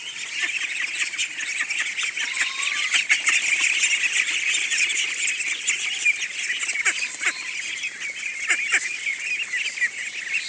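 A flock of ducks near water quacks and honks in a dense, continuous chorus that stays steady and fairly close throughout.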